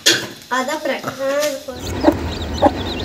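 A hen clucks close by among newly bought white chicks, giving a few short clucking calls followed by softer peeps and rustling in a busy household setting, with people talking over part of it.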